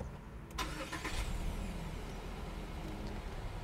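A 2022 Subaru Forester starts up, a short crank and catch followed by a smooth, quiet idle heard close from inside the car.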